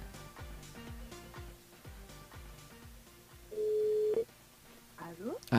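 A telephone line rings, with a long electronic tone followed by warbling signal sounds, mixed over background music and faint talk.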